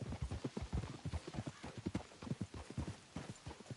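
Horses' hooves clip-clop steadily on the ground in the video game Red Dead Redemption 2. The footfalls are rapid, close and continuous over a dense game ambience.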